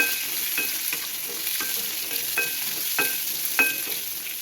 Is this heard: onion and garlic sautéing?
yes